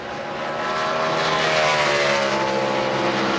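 A NASCAR Sprint Cup race car on a qualifying lap at Richmond roars past loud and close, its engine note swelling into a sustained high-revving scream that fills the whole stretch, with no talk over it.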